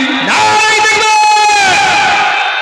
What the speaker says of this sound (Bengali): তাকবীরে ধ্বনি দেন দেখি, নারায় তাকবীর, নারায় তাকবীর